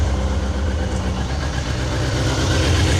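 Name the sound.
sportsbike engine idling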